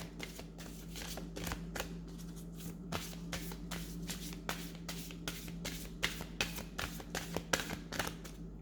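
A tarot card deck being shuffled by hand, close and distinct, with rapid repeated riffling bursts and soft slaps in a steady rhythm, over a faint constant hum.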